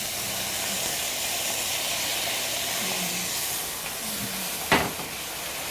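Bellflower root stir-fries in oil in a lightly covered pan, making a soft, steady sizzling hiss with one sharp clack near the end.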